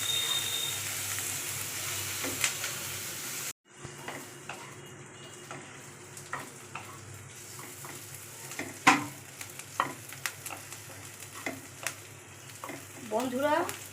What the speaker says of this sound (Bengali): দিয়ে এই পেঁয়াজগুলো ভাজবো।